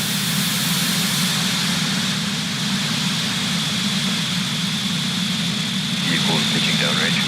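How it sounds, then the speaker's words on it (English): Falcon 9 rocket engines at liftoff on a Starlink launch from Cape Canaveral roar as a steady, dense broadband rumble with a heavy low-end drone, holding constant loud and distant throughout. "Ignition. Engines full power. And liftoff of Starlink 6-10."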